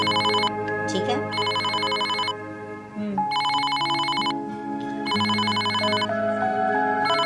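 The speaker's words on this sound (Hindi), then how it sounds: "रुको, फोन आया किसी का" A phone rings in loud repeated electronic bursts, each trill lasting a couple of seconds with short gaps, while a musical tone plays underneath.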